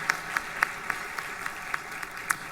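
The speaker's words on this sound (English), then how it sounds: "Let's give them a round of applause." Scattered applause from a conference audience, a handful of separate, fairly faint claps popping out at irregular intervals over a quiet room rather than a full ovation.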